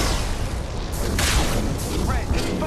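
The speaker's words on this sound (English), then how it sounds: "That's what I want to throw. Bam. Flashbang." A flashbang grenade bursting in Mass Effect 2: a loud, sustained booming rumble with a sharp burst partway through, set within dense game action and effects noise.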